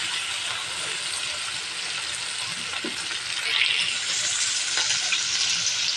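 Chicken pieces frying with spice paste in a pan, a steady loud sizzle throughout with intermittent scraping stirs, the hiss swelling slightly partway through.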